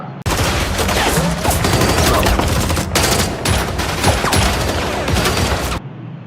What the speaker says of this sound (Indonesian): Hingga terjadilah baku tembak.